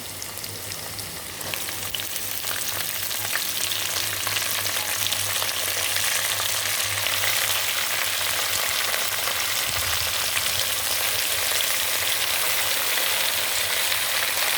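Amaranth leaves fry in a hot pan of oil with a dense, steady sizzle and crackle, close and continuous, with a few soft stirring scrapes and no voices.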